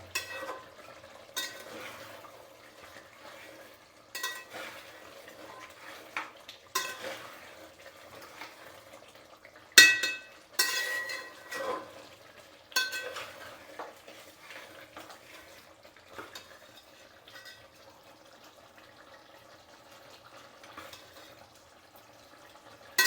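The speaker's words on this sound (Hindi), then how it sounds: "फाइनली प्याज गल चुका है हमारा, और मसाला भी भून रहा है।" Onion masala for mutton sizzles softly in a pan while a spoon scrapes and stirs it in repeated bursts, close up and fairly quiet, with no voices.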